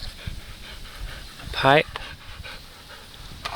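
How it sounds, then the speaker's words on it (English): A dog pants close by in a steady rhythm, with a brief vocal outburst in the middle and a person speaking a word. "Someone's lost dog."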